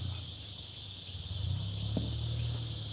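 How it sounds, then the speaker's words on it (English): A steady, high insect drone of cicadas hangs over the scene, constant and moderately loud, with a low background hum beneath it. "Listen to those cicadas that have started up."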